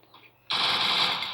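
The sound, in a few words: gunfire in video game PUBG / Free Fire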